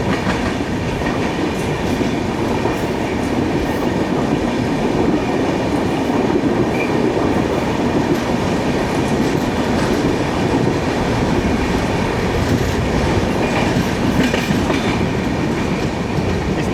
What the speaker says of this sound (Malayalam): ഇതാണ് മുംബൈ CSMT മഡ്ഗാവ് ജൻ ശതാബ്ദി എക്സ്പ്രസ്.